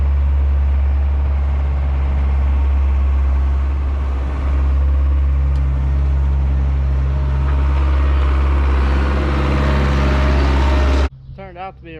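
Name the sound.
skid loader engine running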